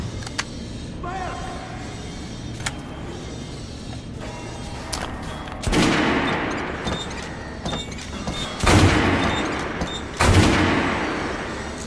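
Gunfire in the Metro Last Light video game, several loud bursts of shots that rise abruptly around the middle and end, over a background of mechanical rumble and clanks.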